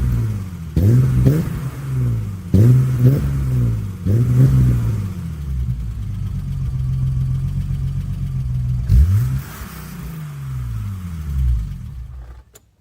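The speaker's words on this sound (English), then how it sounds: "Only a BMW 6-cylinder sounds like this." A BMW E30 335i Cabrio's six-cylinder engine with a Super Sprint exhaust and headers blips the throttle in a series of sharp, loud revs that rise and fall, then settles into a steadier rumble before a final rev, close up with no talking.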